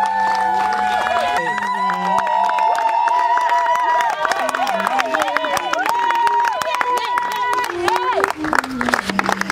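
Guests at a civil wedding ceremony clap and cheer as the registrar enters, rhythmic clapping and crowd noise running under loud music with a melodic line throughout.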